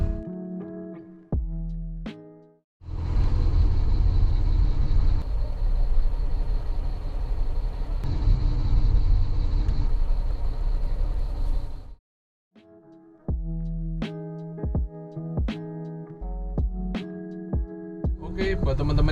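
Engine noise fills the cabin of a Toyota Land Cruiser as a steady, loud broadband roar lasting about nine seconds, with quieter tonal stretches before and after.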